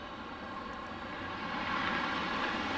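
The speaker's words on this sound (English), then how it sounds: "there you can see the 717 in the distance, arriving from Buffalo" A Boeing 717 airliner arriving at Detroit airport from Buffalo makes a steady, distant jet roar that swells slightly toward the end, with no voices over it.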